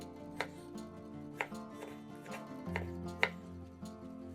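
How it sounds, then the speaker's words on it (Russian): A knife chops a peeled orange into small pieces on a board, about five crisp, evenly spaced cuts ringing out close and clear, with no talking. "Очищенный апельсин нарезаем на более мелкие кусочки."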